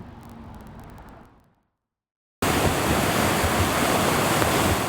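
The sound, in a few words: swollen Hunlocks Creek water rushing after Tropical Depression Debbie rain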